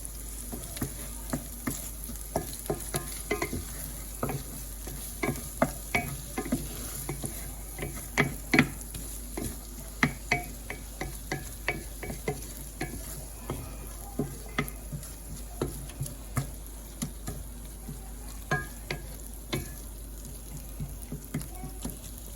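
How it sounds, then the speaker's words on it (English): Tomato paste cooks over low heat as a spoon stirs and scrapes it around the pot, producing a soft steady sizzle broken by frequent scraping ticks, fairly close and quiet, with no talk. "again cook the rawness out of the tomato paste"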